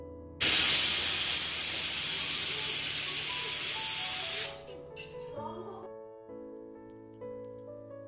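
A strong hiss of running water from a kitchen tap pours onto dishes being washed, loud and steady for a few seconds before cutting off, then quiet clinks and a faint hum in a home kitchen.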